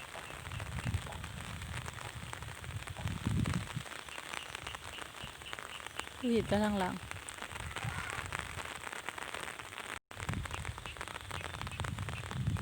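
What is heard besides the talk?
rain falling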